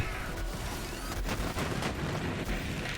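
Dense, continuous gunfire and explosive booms from a weapon in Borderlands 3, used on Amara at Mayhem 10 and wiping out a whole area of enemies, a loud unbroken barrage with sharp blasts throughout.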